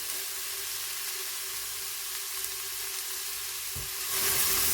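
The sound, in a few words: ingredients sautéing in a pan for Korean chicken stew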